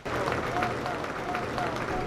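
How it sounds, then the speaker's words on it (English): A steady wash of crowd applause, many hands clapping together at an even level, heard from within a large room at a Holstein dairy cattle show at a county fair. "let's give these exhibitors and this Futurity Committee a big round of applause."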